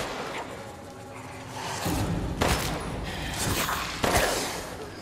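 Gunfire in Resident Evil Village comes as loud, close, rapid bursts and booms layered over a rumbling game soundscape, with sharp impacts near the middle and the end.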